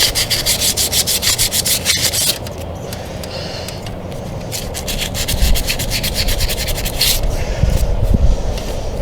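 Sandpaper scrubs rust off a lawn mower's coil and magnet, making close, loud, rapid back-and-forth rasping strokes that continue throughout without talk.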